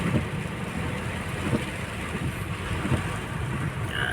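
Heavy rain from a typhoon roars steadily and broadband on a dark road while driving, with low wind rumble underneath and no voices, continuous throughout.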